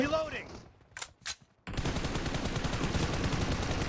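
Automatic gunfire in PUBG Mobile during an 8-versus-8 match: a few sharp bursts, then a dense, steady stream of rapid shots that stays loud right up to the end.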